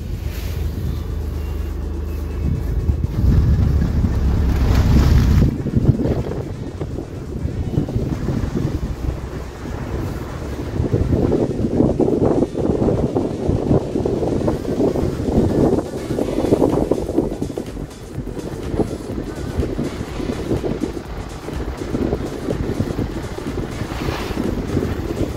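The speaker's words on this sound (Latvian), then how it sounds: "Pirmais brauciens pa jauno ceļu." A vehicle makes its first drive over a freshly spread gravel road, with a steady rumble of tires crunching loose stones under heavy wind buffeting the microphone, continuous throughout and without speech.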